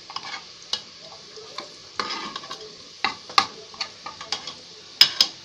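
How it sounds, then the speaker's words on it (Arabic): Onions frying in a pan while being stirred, a soft steady sizzle broken by scattered clinks and scrapes of the spoon, close and fairly quiet with no talking. "دلوقتي حبايبي البصلة كده بدأت اللي هي تصفر اهي كده معايا"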